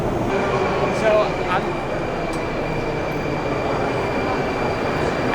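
A Moscow metro subway train rumbles steadily and loudly nearby, with a constant low roar, faint rail clatter and a high electrical whine, while a voice speaks briefly underneath.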